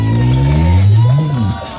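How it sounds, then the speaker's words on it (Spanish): A crowd at an outdoor children's contest in Crotona Park cheers loudly for a young girl contestant, with a sustained rising whoop over the general shouting and no distinct clapping. "Aplauso para ella"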